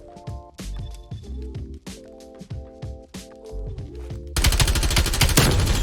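LC10 submachine gun firing in Call of Duty: Cold War, several short bursts of rapid shots separated by brief pauses, then a denser, louder sustained volley at the end, close and prominent with game music underneath.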